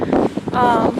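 Gusty wind in a garden buffets the microphone in uneven bursts, rumbling and roaring loudly for a moment.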